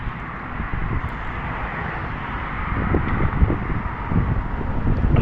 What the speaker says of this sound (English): But we have a private jet taking off.